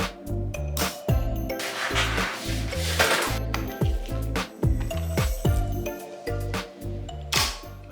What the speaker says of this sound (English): Let's see when I crank it over.